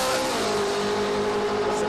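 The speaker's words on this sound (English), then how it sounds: "Let's listen to the high RPMs out of these." Two drag racing cars rev at high RPM at Willowbank Raceway, a continuous loud, strained engine roar held steady for the whole stretch.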